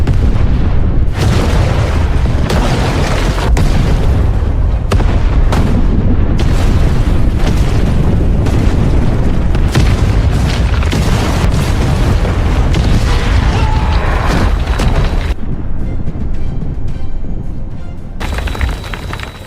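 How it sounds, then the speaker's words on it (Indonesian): A massive explosion in a Rambo film shakes a tunnel and brings it down, with deep rolling booms, crashing debris and rumbling blasts that stay loud and dense for most of the stretch before thinning out toward the end. "ledakan besar mengguncang terowongan menutup jalan di belakang Hugo"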